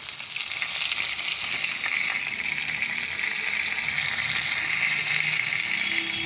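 Potatoes fry in oil that was already used for frying cauliflower, with spices added, giving a loud, continuous close-up sizzle and crackle without any talking.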